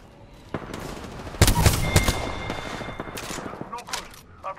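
Gunfire in the video game Apex Legends: bursts of rapid shots of varying loudness, with a heavy cluster in the middle, over game noise and a voice.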